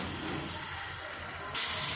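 Chicken being sautéed in a pan for palak gosht gives a steady close sizzle and hiss that grows slightly louder near the end.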